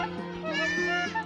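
Goats bleating on a breeding farm, several close, loud wavering calls running one after another with a steady low hum of other animals beneath.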